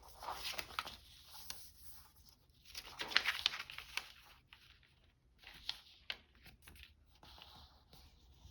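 Paper being folded and creased by hand for a junk journal, a series of soft crinkles, rustles and sharp creasing swipes at close range, with quiet pauses between folds.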